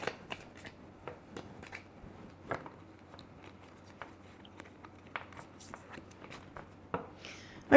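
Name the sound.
tarot cards being drawn and handled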